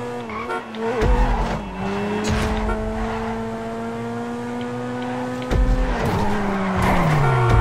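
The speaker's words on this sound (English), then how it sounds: "Oh, I fucking spun out." A car in a GTA V online race skids and spins out with sustained tire squeal, its engine revving through rising and falling tones, loud and close, punctuated by sharp bumps.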